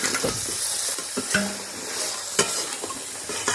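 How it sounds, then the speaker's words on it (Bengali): Fried crabs tumbling into a spicy masala in a pan at a Sundarbans picnic, giving a steady frying sizzle with a few sharp scraping stirs and clinks, close and moderately loud, with no talking. "এবারে ভেজে রাখা কাঁকড়াগুলো দিয়ে দিচ্ছি।"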